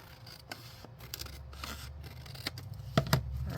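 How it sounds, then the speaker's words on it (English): Scissors snip close by through a junk journal page, giving several short, crisp cuts at uneven intervals with light paper rustling between them. "I'm going to just wing it and do it with my scissors here"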